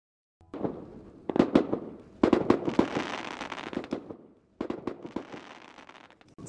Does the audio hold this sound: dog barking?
no